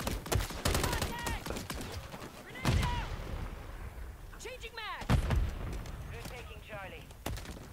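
Gunfire in an online Call of Duty Modern Warfare 3 match, scattered sharp shots and short bursts with distant booms between them, while a player talks excitedly over the action.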